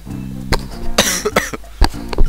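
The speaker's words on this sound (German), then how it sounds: "Mein Husten ist wieder schlimmer geworden" A person with a worsening cough coughs several times in sharp, loud, close bursts. Electronic video game music plays quietly underneath.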